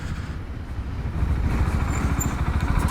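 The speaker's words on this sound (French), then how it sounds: "je vais faire un petit test de freinage" A Husqvarna Svartpilen 701 big single-cylinder motorcycle rumbles under a braking test, a low throbbing engine pulse that grows a little louder and choppier toward the end.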